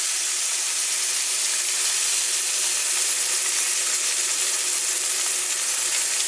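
Steak sears in a hot pan with a loud, steady, unbroken sizzle and hiss. It runs alone throughout, with no talk.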